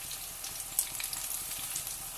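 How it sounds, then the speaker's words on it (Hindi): Spinach pakoras frying in hot oil make a steady, soft bright sizzle with scattered small pops and crackles, fairly quiet and close, with no voices. "अब ऑयल गर्म हो गया, अब मैं हाथों से पकोड़े डालूंगी"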